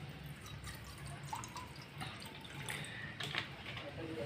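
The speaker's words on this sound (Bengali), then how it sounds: "একটা ছোট অ্যালুমিনিয়ামের বাটি বসিয়ে দিয়েছি। এবার আমি এতে খানিকটা জল দিয়ে দেবো।" Water is poured from close by into a small aluminium bowl, a soft trickling, splashing fill with faint drips that rises and falls over a few seconds at low volume.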